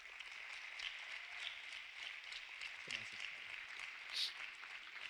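Steady applause from a crowd, a dense continuous patter of clapping heard at moderate distance without a break.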